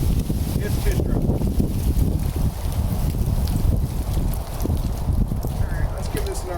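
Johnson two-stroke outboard motor on a boat running rich with a steady, close, loud broadband rumble and sputter, wind noise buffeting the microphone throughout.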